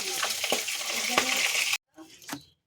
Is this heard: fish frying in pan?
yes